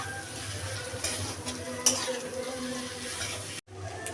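Jackfruit or potato pieces are stirred with spices in a hot pan, a steady sizzle of frying with scraping of a spoon against the pan and occasional clinks.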